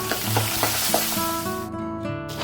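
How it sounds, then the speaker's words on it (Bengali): Pabda fish slipped into smoking-hot mustard oil in a kadai crackle and spit loudly, a dense close sizzle with sharp pops, then settling into steady frying. "তেল থেকে হালকা ধোঁয়া উঠতেই মাছগুলো তেলের মধ্যে ছেড়ে দিচ্ছি"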